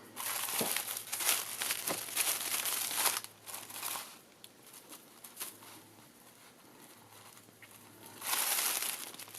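Gold eyelash trim crinkles softly as it is wrapped around handmade 3-D paper flowers, a quiet, continuous rustle that swells near the start and again near the end.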